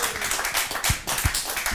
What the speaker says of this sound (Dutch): Dames en heren, applaus.